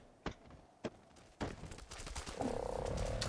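A frog-like hopper creature in a video game croaks, preceded by two sharp taps, then a rising, sustained croaking tone near and moderately loud, no talk.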